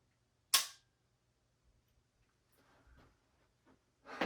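During a pistol reload drill that starts with the slide locked back, one sharp metallic clack is followed by quiet handling rustles, then another clack right at the end.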